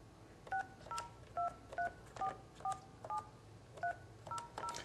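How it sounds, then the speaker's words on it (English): Push-button dialing on a Mitel 5000 phone system gives about a dozen short, evenly spaced DTMF tones, quiet and clean with no talk over them. "I'll input the digit 8 for outside dial tone."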